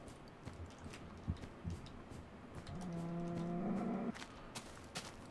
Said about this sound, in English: I hear cows.